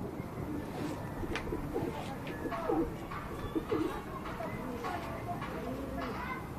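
Breeding pigeons coo steadily in a loft, with soft, layered coos blending into a busy, close background.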